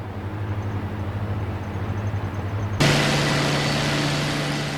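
A fighter plane's piston aero engine drones steadily at low-level flight speed, then swells abruptly into a louder, brighter roar partway through.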